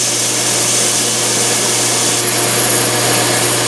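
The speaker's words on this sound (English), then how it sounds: "I'm gonna take that to the belt grinder for a sec." A belt grinder runs steadily, smoothing the rough end of a homemade forge burner tube, giving a loud, close, continuous hiss and whine with a constant motor hum and no speech.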